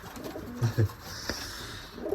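Soft, low pigeon coos in a breeding loft in winter, a couple of short murmuring calls close by against quiet background noise.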